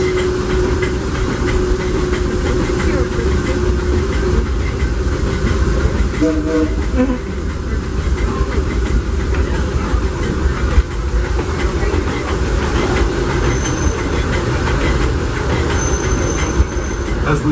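Disneyland Railroad steam train rolls past Hungry Bear Restaurant in Critter Country, with a loud, steady rumble and clatter of wheels on rails heard close up from on board, plus a brief squeal.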